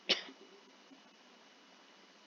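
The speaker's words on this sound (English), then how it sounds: "This cough is driving me mad." A single short, sharp cough near the start, followed by quiet background hiss.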